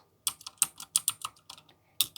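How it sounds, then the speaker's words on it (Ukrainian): Mechanical computer keyboard being typed on, a quick irregular run of crisp, close clicking keystrokes with short pauses between them. "Так у мене клавіатура. Механічна."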